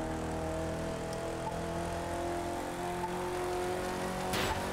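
A Land Rover Defender drives in The Crew with a steady, droning engine hum that holds at an even pitch throughout, moderately quiet, with a brief scuff near the end.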